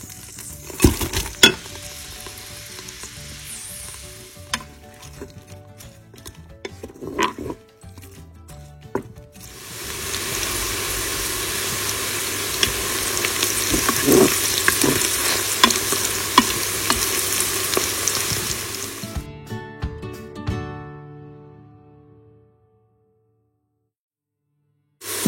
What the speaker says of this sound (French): on va faire revenir nos oignons